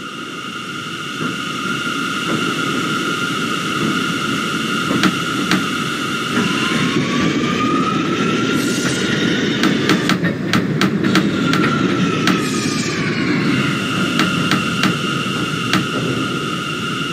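An R179 subway train runs in the OpenBVE train simulator, a steady loud rolling rumble with rhythmic clicks over rail joints and a rising then falling motor whine partway through.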